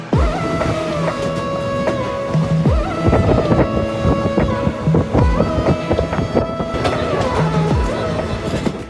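A moving train travelling from Berhampore towards Kolkata rumbles along loudly and continuously, with steady rolling noise, wind buffeting, and rising and falling tonal whines from the running gear and carriages.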